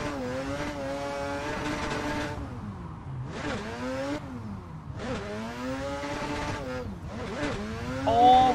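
A rotary-engined Mazda FD drift car holding fifth gear on a course, its high, buzzy engine note climbing and falling through repeated loud revving surges close by, with a brief sharp squeal near the end.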